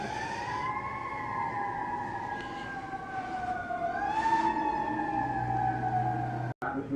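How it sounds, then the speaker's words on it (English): Fire engine sirens wail, rising and falling in long sweeps, heard at a distance over a constant rumble of howling wind during Superstorm Sandy. "You can hear the fire sirens going off,"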